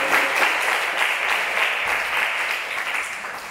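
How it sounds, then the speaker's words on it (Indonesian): A church congregation applauds with steady, even clapping from many hands that fills the room and fades slightly toward the end. "Tepuk tangan untuk Tuhan Yesus Kristus."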